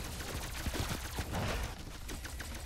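Rapid automatic fire from the K-84 wonder weapon in Call of Duty Zombies on the Firebase Z map, a dense, continuous rattle of shots layered with game effects.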